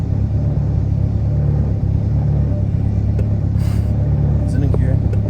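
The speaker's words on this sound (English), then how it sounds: "you give it a little bit of throttle, and add throttle as you let the clutch out" Manual car engine rumbling steadily as throttle is fed in while the clutch is let out, a low continuous drone close by, with people talking over it.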